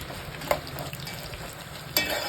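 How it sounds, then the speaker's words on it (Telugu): Dried red chillies broken in pieces and frying in a pan on low flame, a continuous crackling sizzle with two sharp utensil taps against the pan. "ఎండుమిరపకాయలని 2 పీసెస్ చేసి వీటిని కూడా బాగా వేపుకోవాలి"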